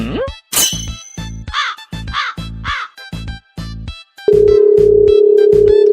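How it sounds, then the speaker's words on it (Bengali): A phone call's dialing tone starts partway through as a loud, steady electronic hum lasting to the end, after a run of repeated harsh crow-like caws. "এই পিসিবির কাছে একটু ফোন দিয়ে দেখি"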